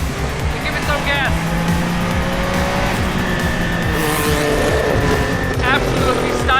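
A Porsche Group C race car engine roaring and revving hard as it accelerates, loud and close, with tire squeal and a voice talking over the noise.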